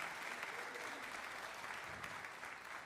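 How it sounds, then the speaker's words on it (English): A concert audience gives a steady, sustained round of applause for a District VI junior high honor jazz band. The clapping is even and continuous throughout, with no talking. "once again, a round of applause for them for doing such a great job"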